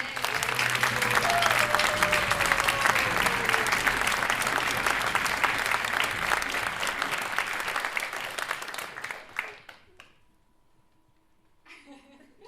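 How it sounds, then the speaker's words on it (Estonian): Sustained applause from a concert audience, loud and dense for about nine seconds before tapering off abruptly, followed by near silence and a brief faint stir of sound at the end. "teeme neile hästi suure aplausi"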